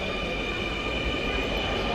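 A Dhaka Metro Rail train at a crowded station platform gives a steady, dense rumble and hum with a sustained tonal whine, continuous and fairly close over the short stretch.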